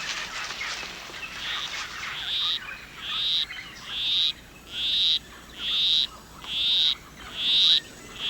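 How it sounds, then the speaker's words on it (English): A male poison arrow frog sings a monotonous courtship song in a rainforest, a steady run of about seven evenly spaced, high buzzy notes, close and clear over a soft forest hiss. "A male poison arrow frog is courting a female. With his monotonous song, he will try to entice her to follow him"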